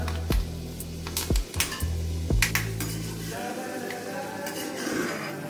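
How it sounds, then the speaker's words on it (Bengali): Fenugreek seeds frying in oil in a home kitchen, with several sharp metal spoon clinks and scrapes against the pan, then a softer, steady sizzle underneath. "এবার 1/2 চামচ মেথি ভেজে আমি তুলে ফেলে দেবো"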